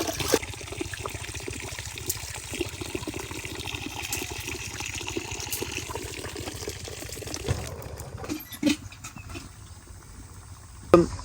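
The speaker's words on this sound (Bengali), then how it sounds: "চালটাকে হচ্ছে আপনার সুন্দর করে ধুয়ে নেব" Rice being washed in water to make khichuri at an outdoor winter picnic, with a steady trickle and slosh of liquid that runs throughout. Sharper splashes come near the end.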